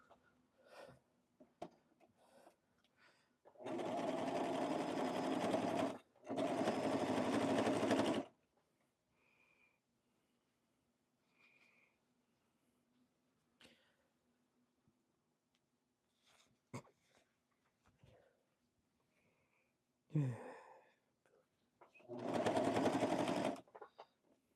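A sewing machine stitches a blazer in several loud, steady bursts of a few seconds each, separated by quiet handling noises and small clicks.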